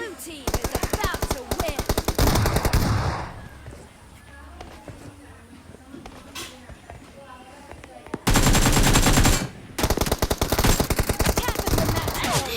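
Bursts of rapid automatic gunfire from a video game, loud and dense, broken by a quieter stretch with faint voices before the shooting resumes.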